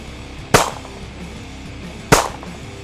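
Two sharp gunshots fired at a target, about a second and a half apart, each loud and close with a brief ringing decay, and no talk between them.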